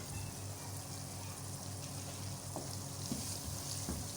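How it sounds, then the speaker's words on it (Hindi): Masala spices frying in oil in a covered pan over low-medium flame, cooking for dal mash with eggs; a steady, moderate sizzling hiss runs throughout with a few faint clicks, no voices. "हमारा मसाला कितनी अच्छी तरह से भुना गया है, तेल के अंदर किस तरह से वो बिल्कुल मिक्स हो गया है"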